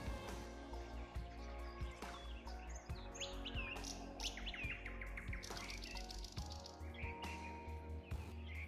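Several birds sing and chirp in a forest, with bright trills and repeated tweets from different directions over a steady low hum, moderately close and without voices.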